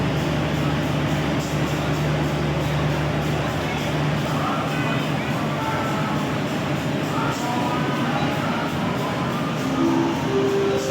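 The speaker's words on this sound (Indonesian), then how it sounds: "Kereta api Penataran telah diberangkatkan dari stasiun Wonokromo menuju stasiun Malang" Penataran passenger train departing Wonokromo station toward Malang, a low continuous rumble of rolling wagons with faint squeals and station crowd noise around it, steady and moderately distant.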